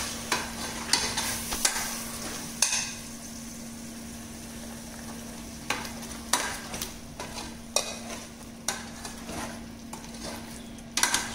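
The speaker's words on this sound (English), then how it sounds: "So stir it properly." Chicken for a do pyaza biryani is stirred in a pot over steady heat, with repeated scraping knocks of the spoon against the metal at uneven intervals over a continuous low hum and faint sizzle.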